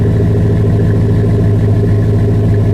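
A 2005 Chevy Silverado 1500's 5.3-litre pushrod V8 at high idle, steady and loud up close, a deep, even rumble with a faint raised edge, continuous for the whole stretch.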